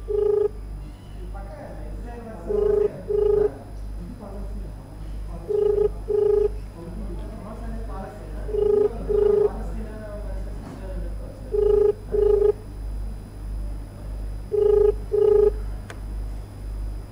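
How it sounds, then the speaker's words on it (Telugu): A phone call is placed live on air, with ringback tones repeating in evenly spaced pairs over a low steady hum, heard clearly while waiting for an answer. "ఒకసారి డైరెక్ట్ అండ్ లైవ్లో యాంకర్ శ్యామలకి కాల్ చేసే ప్రయత్నం చేస్తున్నాను."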